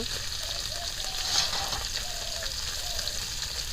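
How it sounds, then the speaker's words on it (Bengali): Onions sizzle in oil while fish fries in the same kitchen, a steady, even hiss with a few soft rises. It continues unbroken throughout, with faint murmuring traces of a voice beneath. "এদিকে পেঁয়াজটা আমি শুকিয়ে নিচ্ছি"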